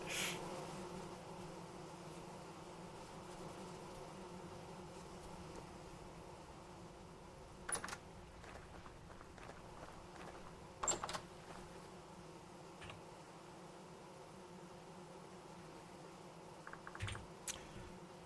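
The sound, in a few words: bees buzzing around hives in Vintage Story video game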